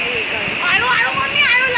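A waterfall near Bhaja Caves in Lonavala in rainy weather gives a steady, loud rushing hiss throughout, with a person talking over it close by.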